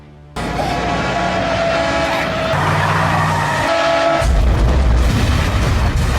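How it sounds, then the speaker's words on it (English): A truck speeds past in a loud, steady roar of engine and tyre noise with rumbling low booms, shifting in pitch as it rushes by, with no voices. "a truck speeds toward them"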